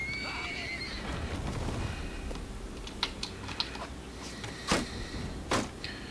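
A warhorse whinnies in a Bannerlord battle, a short neigh amid clattering hooves and sharp, clicky impacts, with several brief bright bursts over steady background noise.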